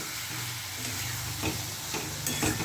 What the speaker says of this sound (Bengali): মশলাটা এবার কষে নেবো ভালো করে